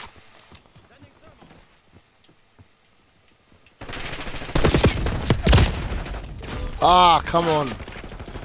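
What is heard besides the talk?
three-round burst gunfire in video game Call of Duty Black Ops 6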